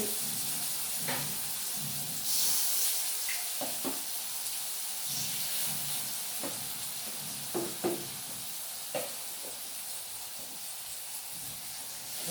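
Ponnara fish frying in hot oil, a steady hiss of sizzling with scattered pops and spatters, moderately close and without speech.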